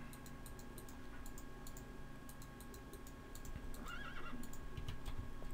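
Minecraft horse whinnies in a video game, short neighs over a backdrop of soft clip-clop and ticking game sounds, fairly quiet.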